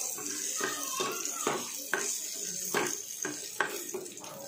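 Cashews and almonds frying in ghee for carrot halwa, a steady close crackling sizzle with soft repeated clinks and scrapes of stirring every half second or so.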